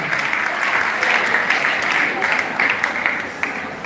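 Audience at a women and young girls engagement event breaks into sustained, dense applause that stays loud and even throughout, with scattered sharper claps.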